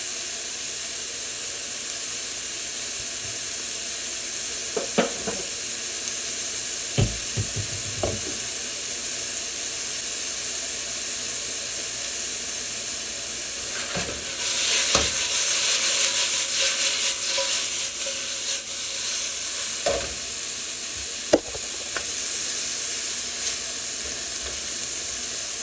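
Chicken pieces for lemon chicken sear in a hot pan with a steady, close sizzle, broken by a few sharp clicks and knocks as they are moved, and a louder, hissier burst near the middle.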